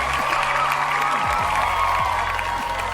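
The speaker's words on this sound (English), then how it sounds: "Thank you for all the claps." Audience applause and cheering fill the room steadily, a continuous wash of clapping with some crowd noise, loud and close throughout.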